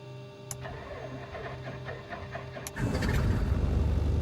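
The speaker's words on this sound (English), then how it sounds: "Good start on the right engine." Aircraft engine starting in Microsoft Flight Simulator: a steady mechanical whir builds, then at a sharp transition a loud, broad roar catches and holds as the right engine lights up.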